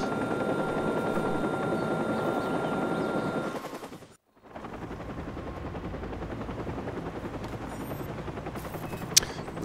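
A helicopter in Watch Dogs beats with a continuous loud rotor chop. A brief drop to near silence breaks it midway, then the rotor wash resumes with a sharp burst near the end.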